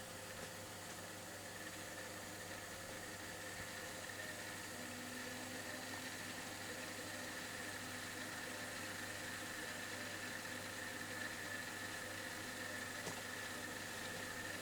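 An Akai GX-210D reel-to-reel tape recorder rewinding, a steady whirring mechanical hum of spinning reels and motor that runs continuously at an even level, close and unbroken.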